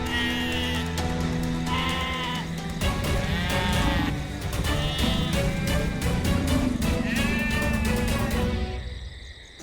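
Several loud, wavering goat bleats repeat over steady background music through most of the clip, each rising and falling call layered against a bed of tones, with the goat caught in a tiger's jaws.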